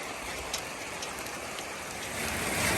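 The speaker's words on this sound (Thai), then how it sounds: "ฝนตกใหม่พอจะนองเลย" Steady, dense rainfall pattering on surfaces, a continuous wash of drops that swells slightly louder toward the end, with no voices.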